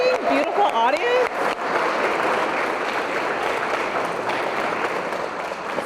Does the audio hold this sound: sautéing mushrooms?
no